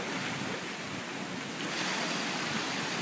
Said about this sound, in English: the power of the ocean moves in and out of Thunder Hole.